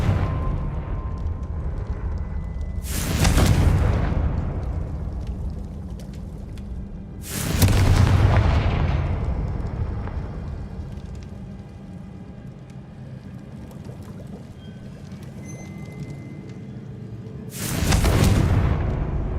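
A Confringo fire spell explodes three times in the game Hogwarts Legacy, each a loud, sudden boom fading slowly over a steady background hum, spaced several seconds apart, with no talking.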